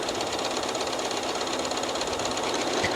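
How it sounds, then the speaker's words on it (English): A Janome Horizon 9400 or 9450 sewing machine runs continuously while stitching a buttonhole, a steady fast mechanical chatter with a rapid even rhythm, close and alone without talk. "once I hit start, it's just going to continue stitching"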